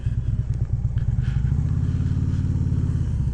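2016 Harley-Davidson Street Glide Special engine running, a loud close low-pitched rumble with a rapid uneven lope that settles into a steadier throb, with no talking.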